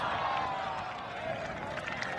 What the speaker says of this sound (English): And hearing it from the crowd.